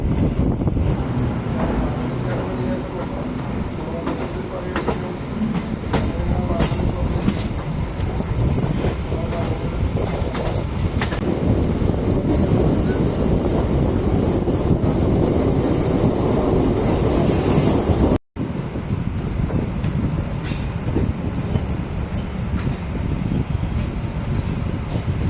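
Ernakulam MEMU passenger train arriving at Vallathol Nagar station in Kerala, a continuous rumbling rail noise with wind buffeting and a brief dropout partway through, with faint voices in places.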